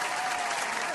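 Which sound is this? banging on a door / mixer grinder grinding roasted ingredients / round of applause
round of applause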